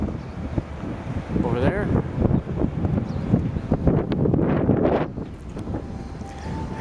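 Strong wind at Niagara Falls buffets the microphone in a loud, continuous rumble, with a person talking over it throughout.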